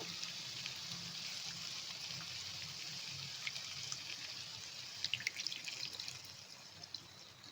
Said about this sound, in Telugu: ఇలా పిసికేసి చింతపండు పులుసు దీంట్లో యాడ్ చేసేసుకోవాలి